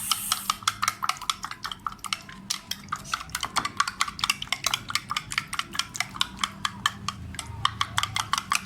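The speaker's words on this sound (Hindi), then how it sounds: "अच्छी तरह इसको 5 मिनट तक फेंट लेना, ताकि सारा मिक्स हो जाए" A whisk beats egg into butter in a bowl, its steady quick strokes clicking rhythmically against the sides, close and fairly crisp.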